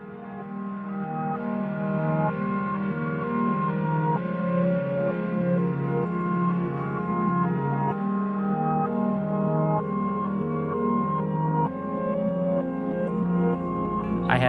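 A reversed, backwards-played passage in a homemade music track gives a smooth, continuous wash of sustained harmonic tones that swell and shift without clear attacks. The music plays alone at moderate volume.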